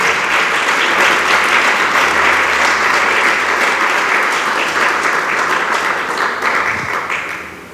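A church congregation applauds for the Lord during a Spanish-language sermon, a dense, loud wash of clapping that holds steady for nearly eight seconds with only a slight fade.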